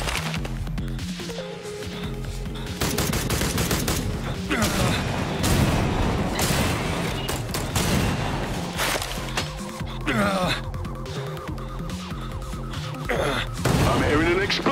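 Explosions and bursts of gunfire from a level of the action video game I Am Your Beast, loud and layered over a game music bed, with booms and rapid shots recurring throughout.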